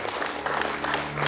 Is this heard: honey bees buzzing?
no